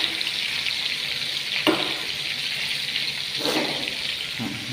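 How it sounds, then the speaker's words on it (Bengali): Fish frying in a pan, a steady close hiss of hot oil running throughout, with a few brief clatters or splashes breaking through the sizzle. "এক মুহূর্তে ভাজি করতেছি"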